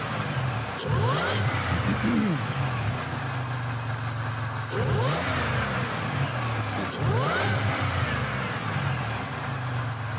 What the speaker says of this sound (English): With the supercharger on there. Oh, he's going to rev it.